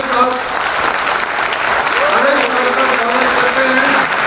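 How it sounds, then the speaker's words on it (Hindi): Loud sustained applause from a crowd at an insurance agents' motivational training event, dense clapping throughout, with voices and cheering mixed in. "दोस्तों एक बार जोरदार तालियों के साथ"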